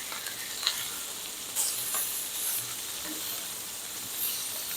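Filet mignon searing in a pan after being flipped: a dense, steady hiss and sizzle with occasional louder spits and a brief scrape, close and continuous, with no talking.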